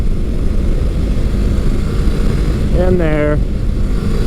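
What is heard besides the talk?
Kawasaki Versys motorcycle engine during front wheel hops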